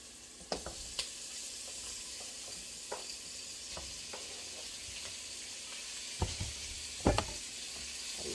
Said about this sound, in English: I'm gonna put in the kielbasa.